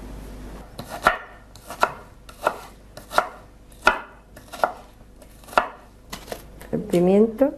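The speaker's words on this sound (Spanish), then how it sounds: "ahora picar los ingredientes" A knife chops pepper on a cutting board for a salt cod sauce, about ten sharp, evenly spaced strokes, close and clear, with a short burst of other kitchen noise at the end.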